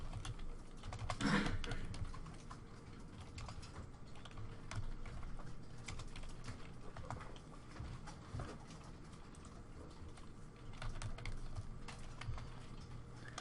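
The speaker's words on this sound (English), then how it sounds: "Ooh, having a hard time typing." Keyboard typing on a computer while entering petty cash and accounts receivable figures, a soft irregular patter of keystrokes with a louder burst near the start, faint and steady under a quiet background.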